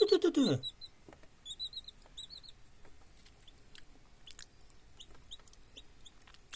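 Freshly hatched chicks in an incubator give a string of thin, high peeps, some in quick pairs. A louder, lower call or sound opens the clip before the chirping settles into a faint, irregular chorus.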